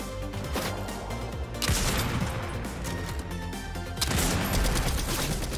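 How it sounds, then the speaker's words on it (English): Video game gunfire comes in loud, dense volleys of rapid shots that blend into a heavy fusillade and surge in two bursts. "somebody trying to shoot me from behind"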